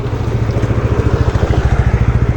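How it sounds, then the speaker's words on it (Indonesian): A motorcycle engine runs loud and close with a fast, even pulsing throb, steady throughout as it goes by on a street, with no talk over it. "Bentar, ada motor lewat lagi."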